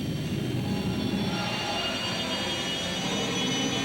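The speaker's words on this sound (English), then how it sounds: "It's a lot bigger, it's a lot heavier than the other engines you see in some of the jet cars, but without a doubt the most powerful." A jet dragster engine, bigger and heavier than those in other jet cars, roars in a steady, loud, broad rushing blast at a 1986 drag race.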